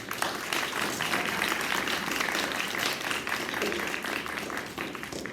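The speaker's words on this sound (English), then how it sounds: "can we get a round of applause for the police?" Sustained applause from a sizable audience at a school board debate, many hands clapping at once in a steady wash with faint voices beneath.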